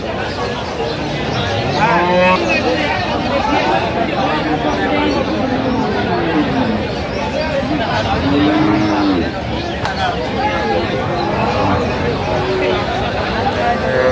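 Several cows, including Sahiwal cattle, moo repeatedly, long low bellows rising and falling, over a steady hubbub of crowd chatter and people talking at a busy outdoor cattle market.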